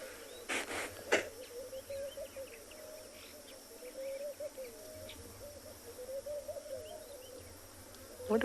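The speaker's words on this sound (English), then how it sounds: "Lots and lots of insects." Insects buzz steadily through a peaceful late-afternoon sunset in the Tswalu Kalahari savanna, a continuous mid-pitched drone carrying on throughout, with a few louder rustles near the start and faint bird calls in the distance.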